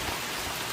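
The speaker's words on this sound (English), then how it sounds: "Of course it had to be raining." Steady, even rainfall hisses in the horror video game The Mortuary Assistant, a brief wash of falling rain with no other sounds.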